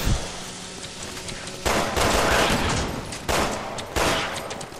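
Gunfire in the video game Resident Evil 6, with continuous rattling automatic fire punctuated by several louder blasts amid dense battle noise, with no talking.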